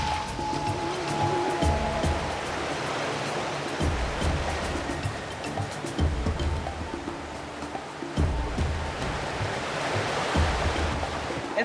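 River rapids in Madagascar rush and churn in a loud, continuous roar of turbulent water, close by and steady throughout, with occasional splashes and knocks.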